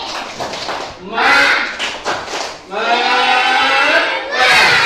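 A group claps in bursts during a class or gathering, and loud group chanting and shouting overlap the claps.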